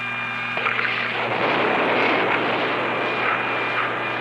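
X-15 rocket plane launch, a loud, steady, broad roar of engine noise that swells in just after the start and holds powerfully throughout, close and overwhelming.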